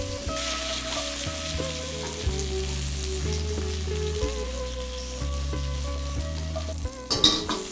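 Cabbage and eggplant frying in a pan for Korean kuksi cold noodle soup give a steady sizzle. Constant crackling runs under a low droning hum, and a brief clatter of utensils comes near the end.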